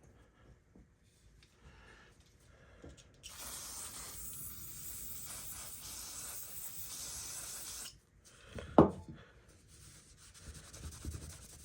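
Brake cleaner sprayed from an aerosol can onto a 5.7 litre Chevy engine, a steady close hiss lasting several seconds, then a brief sharp squirt, with quieter rubbing and handling noises around it.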